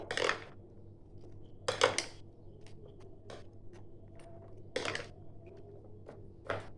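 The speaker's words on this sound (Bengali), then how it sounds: "এইভাবে ভালো করে মিশিয়ে দিতে হবে।" Sabudana fruit custard is stirred in a bowl, producing a few distinct spoon-on-bowl clinks and scrapes spaced a couple of seconds apart over quiet background.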